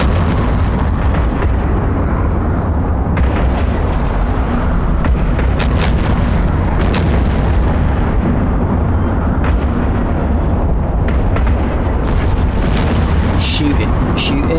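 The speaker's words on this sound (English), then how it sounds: "Let's shoot him now, he's in range." Starship weapons in EVE Online fire at an enemy ship in a sustained barrage of booming, crackling shots that layer densely over a steady low rumble, loud and continuous throughout.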